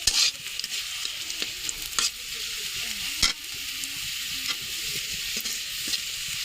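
Onion and cumin fry in a pan with a continuous close sizzle and intermittent scraping stirs and taps of a utensil.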